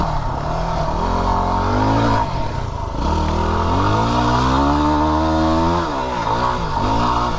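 A Yamaha WR250R motorcycle engine revving hard in first gear, a loud, close, buzzing whine that climbs and falls in pitch with the throttle, dipping briefly before surging again.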